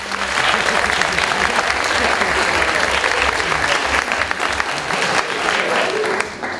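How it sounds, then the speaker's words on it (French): An audience at a student eloquence contest final gives a candidate sustained, dense applause, many hands clapping evenly and loudly throughout with a faint murmur beneath, fading slightly at the very end. "Vos meilleurs applaudissements pour Anna en L1."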